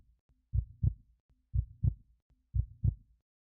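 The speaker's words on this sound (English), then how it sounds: "A strong, steady heartbeat." Strong, steady heartbeat in three evenly spaced lub-dub pairs, close and clear against near silence, with deep soft thumps repeating about once a second.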